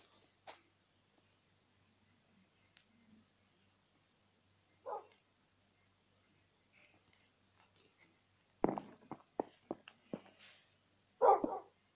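Dog barks in the Minecraft video game: a quick burst of short, sharp yips and barks near the end, after a few isolated faint sounds, with quiet whispered Greek talk at moments.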